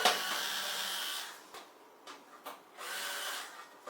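A screwdriver undoing screws on the top cover of an aluminum 8-bay NAS chassis, heard as close whirring bursts of a powered driver separated by a short pause with faint handling clicks.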